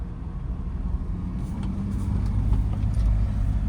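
A car engine rumbles low and steady as the car is driven over a speed breaker in a narrow lane, swelling slightly as the throttle is pressed.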